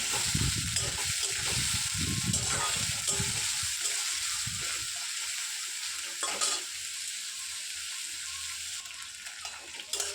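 Chopped onions sizzling steadily in a hot pan for a chicken dish, with stirring and scraping in the first seconds, then an even frying hiss that carries on alone.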